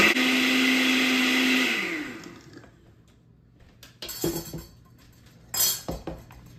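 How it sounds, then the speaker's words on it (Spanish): A kitchen blender whirs loudly while blending a sauce for pork, then winds down to a stop, followed by a few close clinks of glass and utensils. "Licuamos"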